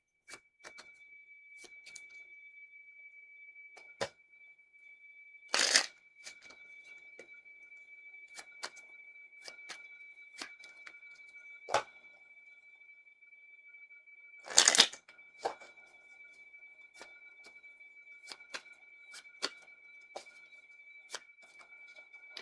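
Tarot cards are handled and shuffled in a quiet room: two brief riffling bursts stand out among scattered soft taps and clicks, over a faint steady tone.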